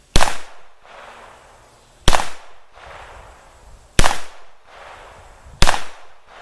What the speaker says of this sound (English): That's 10 shots.